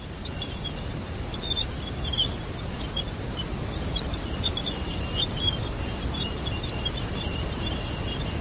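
Space sound recording from particles entering the atmosphere, in the same family as Leonid meteor sounds, resembling birds: faint, scattered high chirps over a steady hiss, continuing for several seconds with no voices.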